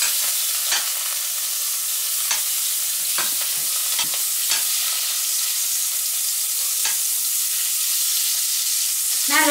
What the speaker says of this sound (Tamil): போட்டு பட்டர் ஊகையத்தில் ஒரு ஸ்டிக் பட்டரை போடுறேன்